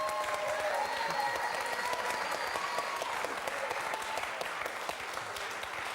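Sustained applause from a TV quiz show studio audience cheering a contestant, steady and dense across the whole stretch, fading slightly near the end.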